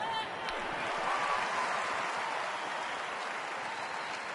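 Baseball stadium crowd cheering a fly-ball out at a Cardinals at Rockies game, a broad steady roar of cheering and clapping that holds level, with a voice audible faintly underneath.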